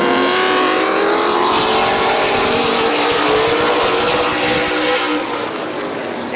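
Nine race cars roar off together at the start of an elimination race at Midvale Speedway, a loud dense engine drone with layered revving whines that holds steady throughout.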